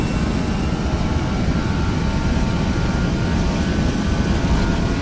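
Airbus A320 jet engines at takeoff power in a flight simulator, on a Jazeera Airways flight departing Dubai: a loud, steady, broadband roar with a constant whine, heard alone and unbroken throughout.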